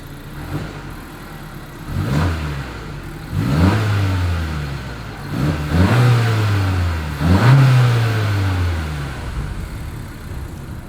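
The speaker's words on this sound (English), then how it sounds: "Here is that exhaust clip." A 2021 Honda CR-V with dual exhaust tips, revved while parked: four rising and falling engine revs from the exhaust, loud and close, each climbing and then dropping back toward idle, with no voices.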